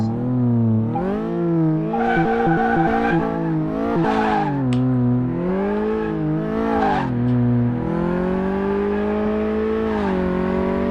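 A Smart car in the Car Mechanic Simulator video game revs hard with its tires spinning and squealing, the engine pitch rising and falling in repeated sustained, loud whines; no talk.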